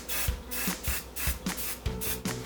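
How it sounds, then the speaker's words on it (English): Hairspray hisses onto styled hair in a series of short repeated bursts, roughly six quick sprays at close range with brief pauses between them, and no voice heard. "Give this little guy a little spray."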